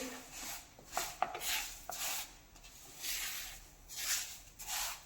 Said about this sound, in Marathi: आता छान असा तुपामध्ये रवा भाजून घ्यायचा आहे